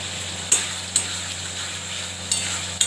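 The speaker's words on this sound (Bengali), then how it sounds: "এবার মাছের তেলটা দিয়ে দিচ্ছি, এবার ভালো করে কষাবো।" Vegetables sautéing in a pan with mustard oil for a Bengali fish curry, a steady sizzle broken by a few sharp clicks of a spatula against the pan.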